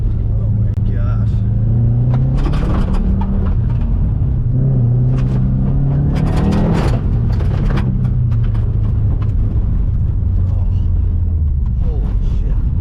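A Subaru GC8 with a swapped-in STI engine accelerating hard through the gears, its engine note rising and dropping with each shift, heard from inside the car beneath excited talk from the driver.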